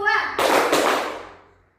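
Children in a microteaching class clap on a counted cue, a sharp burst of several claps blurring together and then decaying, with a voice briefly heard just before.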